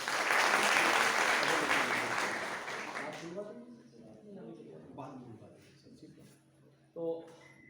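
Applause greets a speaker at an introductory class, loud and broadband for about three seconds before fading, then a voice speaks in Hindi over the quiet room.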